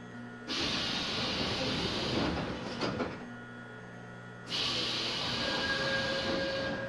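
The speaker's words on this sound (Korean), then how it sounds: "The train will soon depart. The doors are closing." A loud hiss of subway train door mechanisms in the Hmmsim Metro video game, followed by a clunk and quiet hum, then another long hissing burst as the doors move again.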